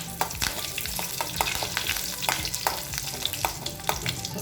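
Two dried red chillies and curry leaves fry in hot coconut oil with mustard seeds, giving a busy close sizzle broken by frequent crackling pops and some stirring, with no voices.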